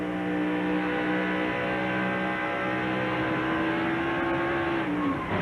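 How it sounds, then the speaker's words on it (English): A race car at the 2000 DirecTV 500 screams at high RPM after its rear end swings around and it hits the wall, a loud sustained engine whine with rising and falling pitch. "You could hear the RPMs that really get up there as the back started around on Benson's car."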